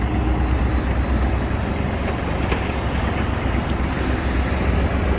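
Kubota GL21 four-wheel-drive Japanese mini tractor engine running during a quick turn test, a steady low droning rumble throughout, fairly loud and close, with no talk over it.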